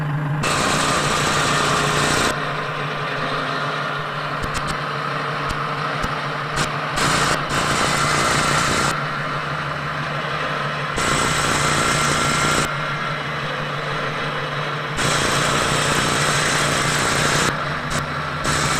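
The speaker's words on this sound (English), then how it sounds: "This is the electric winch. This is strictly at idle speed." Electric winch on a 1994 LSVW soft-top cable layer prototype idling, a steady mechanical hum with a constant low tone and a high whine that cuts in and out in repeated stretches, close and loud, with no talk.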